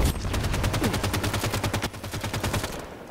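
Rapid automatic gunfire in Halo 5 rattles out in a fast, steady stream of close, loud shots for about three seconds, the rhythm loosening slightly toward the end.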